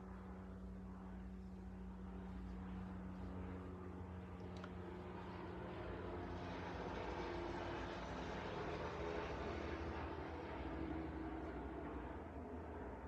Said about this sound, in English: Here's the helicopter again.